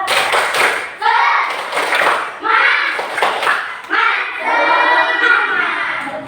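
Indonesian schoolchildren performing a patterned rhythmic clapping chant in a classroom, bursts of unison claps alternating with loud sung shouts from the group, repeated several times up close.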